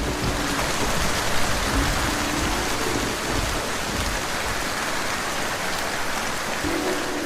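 Steady, dense downpour of heavy rain, a constant broadband hiss with no pauses, close and loud throughout.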